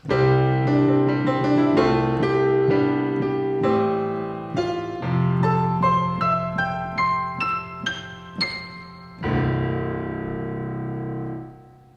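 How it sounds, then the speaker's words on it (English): A 9-foot Steinway grand piano plays a flowing passage of chords and melody, notes ringing out into a soft reverberant tail, alone and clear. "I've just got a big 9-foot Steinway Grand dialed up"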